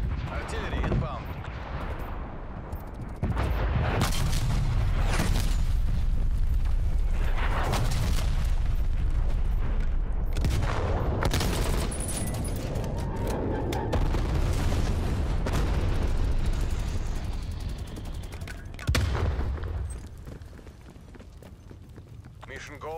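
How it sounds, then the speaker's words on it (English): Artillery strike explosions in Call of Duty: Black Ops Cold War, a dense run of heavy booms and blasts rumbling for most of the stretch, loud and sustained, with game voice callouts mixed in and a quieter tail at the end. "Artillery inbound."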